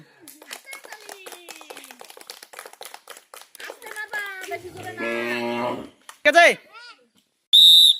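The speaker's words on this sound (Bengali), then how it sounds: "জোরে একটা হাততালি দাও সবাই" Children clap their hands during a party game, the patter of claps sitting under an adult voice, followed by a burst of loud cheering and a sharp whistle blast near the end.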